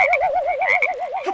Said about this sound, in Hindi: कुंभकर्ण को उठाने मेंढक आ गया।